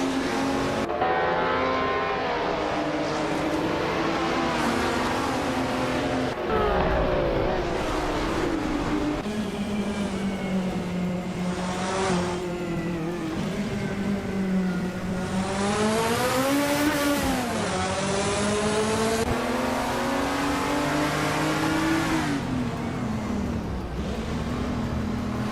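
Several 1979 BMW M1 E26 race cars roar past in a racing video game at Dubai International, engines revving and shifting with rising and falling pitch, loud and continuous with no talk.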